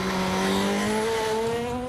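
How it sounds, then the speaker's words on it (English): S2000 rally car on a wet road, engine holding a steady high drone with rising tonal pitch and tire hiss, brief and continuous. "It was now becoming nearly impossible to keep a rally car on even the straight roads."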